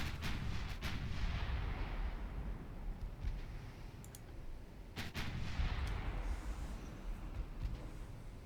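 Naval artillery from the Ultimate Admiral Dreadnoughts warship game, with heavy 15-inch battleship guns booming in repeated salvos over a constant low rumble of battle. Sharp blasts come early and again near the middle.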